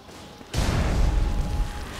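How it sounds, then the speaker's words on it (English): Cannon fire in the Guild Wars 2 video game: a sudden loud booming blast that rolls into a sustained heavy rumble of battle noise, close and dense, with no talking. "Damn cannons."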